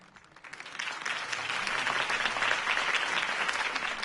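Crowd applause after a campaign speech in the video game Batman The Telltale Series, swelling quickly from quiet into a full, steady roar of clapping that holds to the end.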